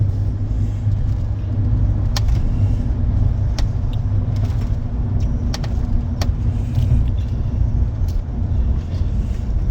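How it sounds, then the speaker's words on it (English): A car drives across the Marion Reservoir dam in Kansas, giving a steady low road rumble with tyre and engine drone throughout, plus a few faint clicks and rattles inside the cabin. "We're going to drive across the dam."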